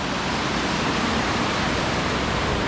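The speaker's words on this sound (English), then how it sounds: "with tunnels and the water, which is actually very noisy." Loud rushing water roars steadily through a narrow canyon lined with tunnels, a dense broadband wash that never lets up across the whole stretch.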